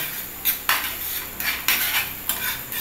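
Egg being scrambled with sautéed onion in a pan for egg momo filling: a few quick metal spatula scrapes and clinks against the pan in short bursts, close and fairly loud, with no voices.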